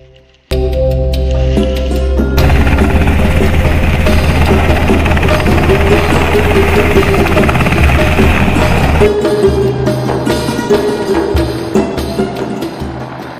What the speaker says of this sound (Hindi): ये कौन है जो हेलीकॉप्टर में लटक के आ रहा है?